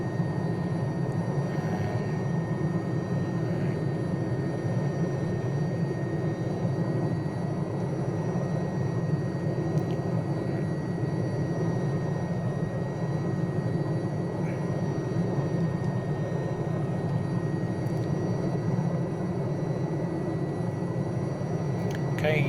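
Steady, droning engine and rotor noise of an Alouette III helicopter hover taxiing in Microsoft Flight Simulator, constant and unbroken throughout, with a voice talking over it.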